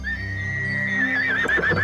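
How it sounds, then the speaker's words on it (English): A horse whinnies in one sustained, high, wavering neigh that quavers toward the end, heard up close. "A baby horse is called a foal."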